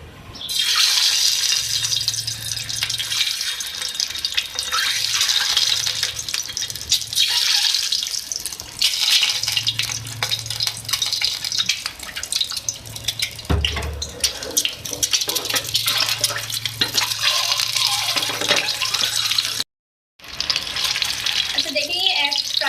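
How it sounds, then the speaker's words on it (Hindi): Eggs fry in hot oil for a potato and egg curry, a loud continuous close-up sizzle and hiss that runs almost unbroken, with one brief cut near the end. "अच्छा ये ऑयल है, ठीक है। इसमें मैं एग को फ्राई करूँगी।"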